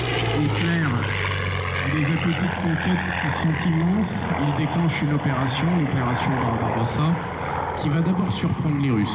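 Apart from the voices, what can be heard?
Yakovlev Yak-3 Russian propeller fighter plane flying at airshow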